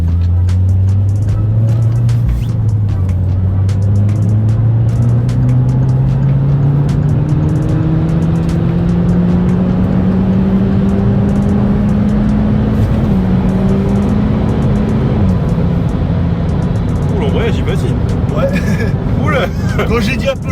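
A Peugeot 208 GTi with a freed-up exhaust accelerates hard, its engine note climbing steadily through the revs in a loud, continuous drone, heard from inside the car with people talking over it.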